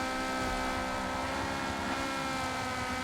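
A Honda Prelude's VTEC engine in Forza Motorsport 7 drones steadily at a constant pitch, with a sustained harmonic tone and a low rumble underneath, heard alone with no talking.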